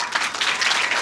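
A school audience gives hearty applause at a principal's welcome event, a dense continuous burst of many hands clapping for about a second.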